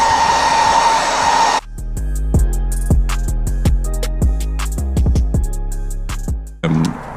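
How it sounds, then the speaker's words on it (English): A hair dryer warming tint film on car tail lights blows loudly at first, then cuts off, leaving a series of sharp knocks and taps before the dryer whirs back on. "So let's get our hair dryer"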